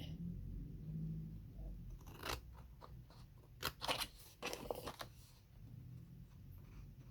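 Scissors snip through paper to make an envelope: a cluster of crisp, close cuts in the middle, set against quiet room tone.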